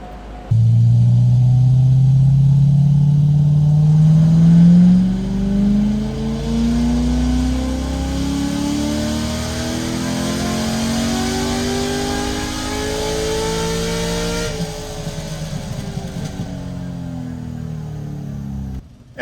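A C6 Corvette Z06 with a 4L60e automatic swap roars on a dyno, loud and close, climbing steadily through the gears in one long pull before easing off.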